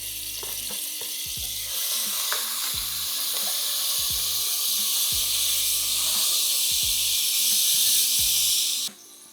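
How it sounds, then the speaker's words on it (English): Garlic and hot peppers sizzle in five tablespoons of hot extra virgin olive oil, a loud, steady frying hiss that runs unbroken for about nine seconds, with scattered sharper pops and crackles, then cuts off abruptly near the end. "In goes the garlic and the hot peppers."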